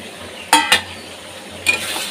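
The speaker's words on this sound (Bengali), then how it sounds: "এবার একটু সামান্য জল দিয়ে মশলাটাকে একটু ভালো করে কষিয়ে নেব" Spice paste stir-fried with a splash of water for a dried fish bharta: a quiet sizzle broken by two quick metallic clinks of a spatula early on and another scrape near the end.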